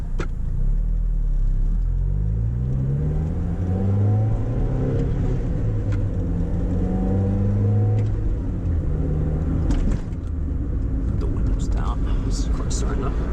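A Mazda Miata MX-5 engine revs and climbs through the gears in a steady droning pull, close and loud inside the cabin, with a few faint clicks and bumps on top.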